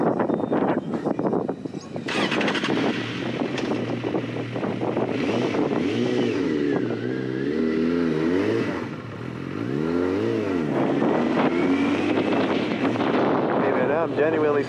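A Suzuki GSX650F motorcycle with a freshly cleaned fuel pump is ridden, its engine rising and falling in pitch through repeated revs and gear changes under heavy wind noise, with a rider's voice talking over parts of it.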